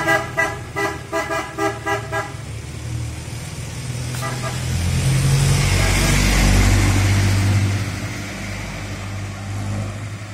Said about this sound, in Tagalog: Malakas po talaga yung big horn.